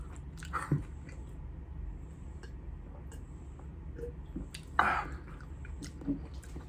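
Carne asada tacos chewed up close at a New York City taco spot, soft wet biting and mastication with a few sharper crunchy bites over a steady background murmur.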